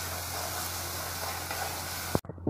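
Onion-tomato masala gravy sizzles and fries in oil in a pan, a steady close crackling hiss that runs continuously before a brief stir clatter and a sudden drop near the end.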